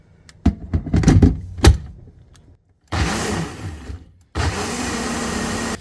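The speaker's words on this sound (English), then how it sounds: "Putting it into the blender because it's cold will help blend it up better." A kitchen blender whirs through chilled applausauce mixed with strawberry jam in two sustained bursts, each starting abruptly, running steadily for a second or two, then cutting off, with some clattering handling noises before.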